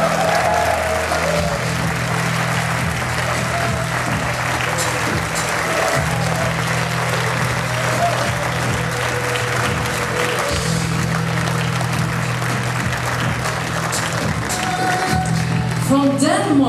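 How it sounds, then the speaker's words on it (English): An audience at the Mr Gay World 2013 national costume segment applauds a contestant from the Czech Republic, a loud continuous roar of clapping that runs the whole stretch, with a steady low musical drone and some crowd noise beneath it. "And from the Czech Republic, may I have a big applause for Marek."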